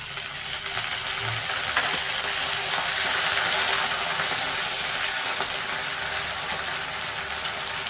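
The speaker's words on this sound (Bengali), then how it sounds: "এরকম হালকা পেঁয়াজটা ভেজে নেবেন।" Onions sizzle and fry steadily in hot oil with ginger garlic paste for chicken biryani, a continuous close crackling hiss that holds even throughout with no voices.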